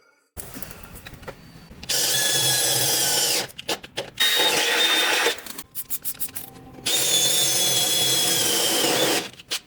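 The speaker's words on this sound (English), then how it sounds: "And commence drilling." A power drill whirs in three loud bursts of several seconds each, separated by brief pauses with small clicks and handling noises, while drilling mounting holes during a power step installation on a 2024 Sprinter van.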